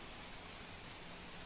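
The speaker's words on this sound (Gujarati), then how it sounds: "તો અમદાવાદમાં તમામ વિસ્તારોમાં ધોધમાર વરસાદ પડ્યો છે." Heavy downpour across Ahmedabad under dark clouds, a steady, dense hiss of rain with no breaks, fairly faint and even throughout with no voices.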